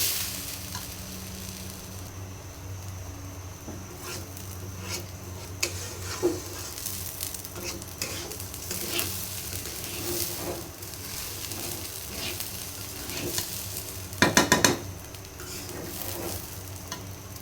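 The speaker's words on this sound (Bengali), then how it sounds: "পোলাওয়ের চালগুলো আমি সুন্দর করে ভেজে নিয়েছি" Polau rice grains toasting in ghee in a pan, a steady soft sizzle with scattered scraping stirs and a brief burst of louder spoon clatter near the end.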